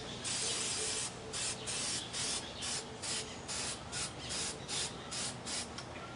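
Spray paint hisses in repeated short bursts, about a dozen on-and-off passes with brief gaps, as another coat of green goes onto a 3D dinosaur model; close and steady, with no talking.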